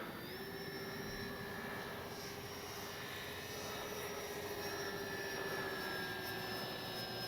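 An Avios Twin Otter RC model airplane on its maiden flight drones at a steady distance, with a sustained engine hum and faint whine holding constant throughout, no voices.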